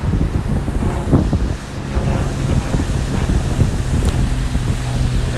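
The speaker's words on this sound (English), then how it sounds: "Very windy." Strong wind roars through winter woods, a loud, steady rushing buffet against the microphone with occasional gusts and no pause.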